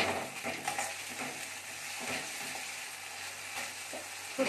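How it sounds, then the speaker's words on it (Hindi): Ginger garlic paste fries in a pan for egg dal tadka, giving a soft continuous sizzle with light stirring scrapes, fairly quiet and without talk. "अब अदरक लहसुन का पेस्ट भी अच्छा से इसमें फ्राई हो चुका"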